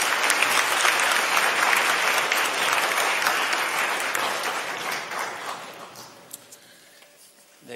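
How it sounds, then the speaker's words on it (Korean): A church congregation at a Sunday service applauding to welcome members, a dense, sustained round of clapping from many hands that fades gradually over the last few seconds. "여러분들 환영의 박수 부탁드립니다"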